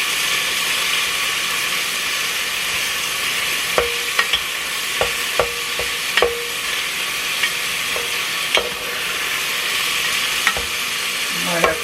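Chuck beef cooks in a Presto electric kettle, giving a steady close sizzle with scattered sharp clicks and scrapes as it is stirred; no one talks.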